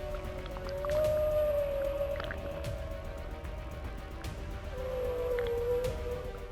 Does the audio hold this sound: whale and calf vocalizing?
yes